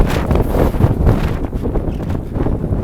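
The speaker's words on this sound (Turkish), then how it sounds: "Güzel, tatlı bir rüzgar var" Steady wind buffeting a microphone on a walk down from Mardin Castle, with a constant low rumble and rustle, loud and close, no voices.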